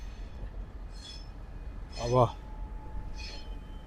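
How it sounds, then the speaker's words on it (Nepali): Freight train engine running near a street in Melbourne, Australia, a low steady rumble in the background with brief bits of speech and faint clinks over it. "ट्रेन सामान बोक्ने ट्रेनको इन्जिन चलिरहेछ साथीहरू।"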